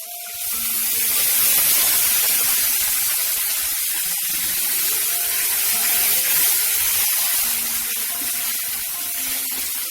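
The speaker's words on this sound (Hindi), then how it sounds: "अब इसमें थोड़ा सा पानी डालेंगे तो नया मसाला जल जाएगा।" Water poured into frying spice masala of cumin powder, turmeric and salt for a small fish curry sets off a loud, continuous hissing sizzle that lasts about ten seconds.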